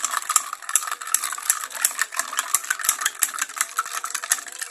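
Raw mango juice being stirred with salt and water, a spoon clinking steadily against the vessel in quick, regular taps close by, with no voices.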